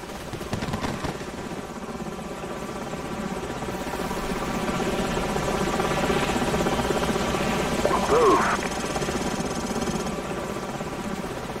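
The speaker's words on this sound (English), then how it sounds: "Enemy helicopters." Enemy helicopters in the Call of Duty Modern Warfare mission "Ultimatum" give a steady, loud rotor drone that fills the whole stretch, with a brief louder swell near the end and radio-style voices over it.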